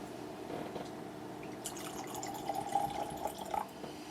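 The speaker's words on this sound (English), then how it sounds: "let me just pour out a dram" Whisky trickles into a glass in a faint, close pour, with soft liquid gurgles and drips building slightly toward the end; no talking.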